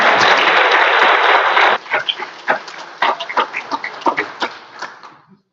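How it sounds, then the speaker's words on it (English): Delegates at the LPIN 2024 state party convention applaud: a dense burst of clapping from a room full of people that thins after about two seconds into scattered individual claps and fades out. "You guys can clap at that"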